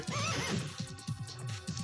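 A horse whinnies loudly and close in The Legend of Dragoon video game, followed by a short series of rhythmic snorts or hoof-like beats.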